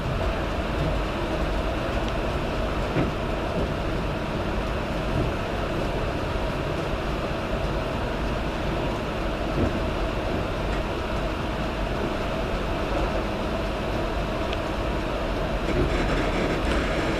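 A train rolls into Edinburgh Waverley station, a steady loud rumble of wheels and carriage noise heard from on board, running continuously with faint rail clicks and no talking.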